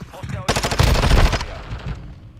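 Rapid automatic gunfire from the Call of Duty Modern Warfare II video game, loud and dense for about a second, then fading into softer game noise.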